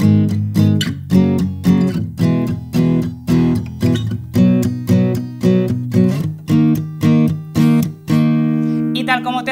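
Acoustic guitar picks out the intro of a song, a rhythmic pattern of bright strummed and plucked chords repeating steadily and close, ending on a sustained ringing chord.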